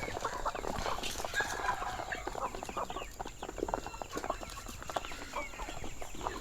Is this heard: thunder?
no